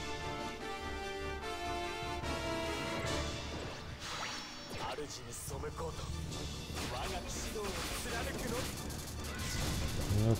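Strike Shot attacks in the mobile game Monster Strike come as a rapid run of smashing impacts, whooshes and whip-like hits over game music, growing denser and louder toward the end.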